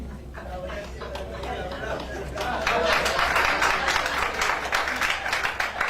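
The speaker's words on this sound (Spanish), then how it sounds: "¿Cuánto le damos aplauso al Señor?" A church congregation applauds the Lord, scattered clapping that swells into a fuller burst of many hands midway, with a speaking voice running over it throughout.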